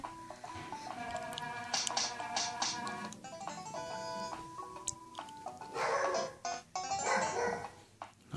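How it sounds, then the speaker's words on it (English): A dog barks a few times in the background over a busy mix of electronic game music and chiming tones from the game Dumb Ways to Die, the barks short and moderately loud. "there goes my dog barking"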